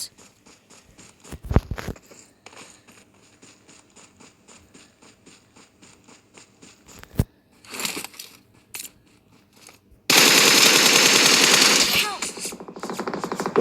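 Video game gunfire in PUBG on the Livik map: a fast run of automatic shots followed by isolated loud bursts and a harsh, noisy stretch near the end, with a player's voice talking over parts of it.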